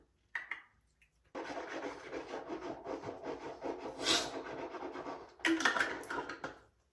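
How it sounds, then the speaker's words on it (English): Tongue scraper dragged across a tongue during a bedtime routine, a close, raspy rubbing and scratching in repeated strokes over several seconds, with a couple of louder scrapes near the end. "I use a tongue scraper day and night"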